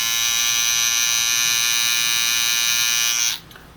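A Wahl Hi-Viz hair trimmer with a weakening battery runs close to the microphone, giving a steady, bright electric buzz that cuts off abruptly near the end.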